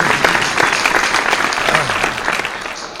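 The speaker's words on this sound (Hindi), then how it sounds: "जोरदार तालियों से इस्तकबाल करें" Loud applause breaks out at a mushaira poetry gathering as a guest is welcomed. Dense, sustained clapping from a crowd stays close and steady for the whole stretch.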